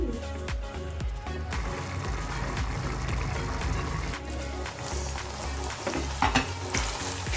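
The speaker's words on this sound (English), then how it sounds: "add tomato puree, mix it and cook everything for 10 minutes" Mutton mixture with tomato puree sizzling and frying in a pan, with stirring scrapes and clinks over a continuous close sizzle, no talking.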